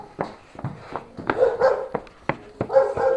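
A dog named Beto barks in short, sharp bursts, several times in a row at close range, some yips mixed in, while people nearby talk and call to him.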